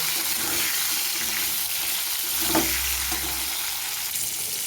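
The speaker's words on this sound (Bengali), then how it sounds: "তাই আমি নুন দিয়ে কিছুক্ষণ পটলটাকে আমি ভেজে নেব" Pieces of pointed gourd fry with salt in hot oil in a wok, giving a steady, even sizzle at close range, with a few faint stirring knocks and no speech.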